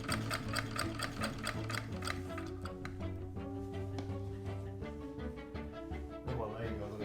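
A Raymond treadle sewing machine runs with a quick, even mechanical ticking for the first couple of seconds, then settles into a softer, steady whir close by.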